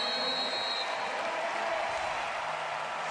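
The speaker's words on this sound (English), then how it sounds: "It's clapping by the American team there." Players of the American wheelchair rugby team clapping after winning the bronze medal game at the London 2012 Paralympics, a steady wash of applause mixed with crowd noise in a large arena.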